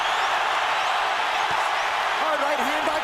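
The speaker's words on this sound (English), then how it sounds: "Crowd is going berserk." Boxing arena crowd roaring and cheering loudly and continuously at a Golovkin versus Canelo Alvarez fight, a dense wall of noise with a commentator's voice rising over it near the end.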